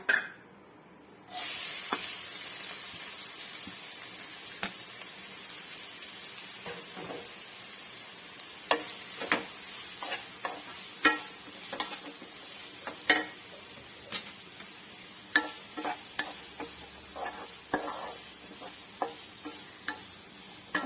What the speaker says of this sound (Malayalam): ആ നെയ്ക്കകത്തോട്ട് നമുക്ക് ക്യാരറ്റ് ഇടാം